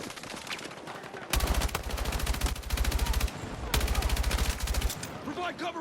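Battlefield 6 campaign combat: loud bursts of automatic gunfire rattle in two long sustained volleys separated by a short pause, with battle ambience and faint voices around them.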